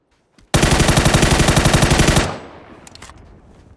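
An M16 rifle in a video game fires one loud, close, continuous automatic burst of rapid shots lasting nearly two seconds, then cuts off into a fading echo and a few faint clicks.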